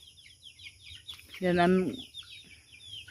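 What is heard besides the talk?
chicks and chickens chirping and clucking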